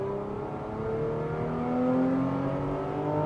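Mercedes C-280 engine revving steadily up and down while stationary, its fault showing as a misfire around 4,500 rpm, with a close, continuous drone that climbs in pitch midway before easing, and no talk.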